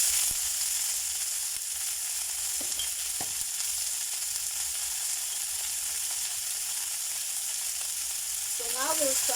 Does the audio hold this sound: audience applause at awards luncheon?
no